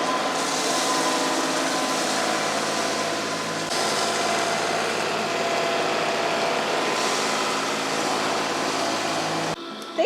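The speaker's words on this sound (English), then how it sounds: "let me get back on the tractor and get a little more work done" A tractor engine runs steadily while driveway gravel is spread, a loud continuous mechanical drone with a brief dip partway through and a sharp cutoff near the end.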